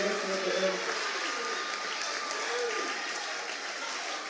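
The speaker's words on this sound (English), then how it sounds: "Let's clap for them." An audience claps steadily for a junior high school team at a quiz competition final, the applause dense and sustained throughout with a faint voice underneath.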